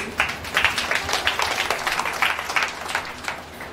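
Church audience applauding during a Hindi sermon, a dense wash of many hands clapping steadily and fairly close, with no speech over it.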